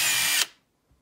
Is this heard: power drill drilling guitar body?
yes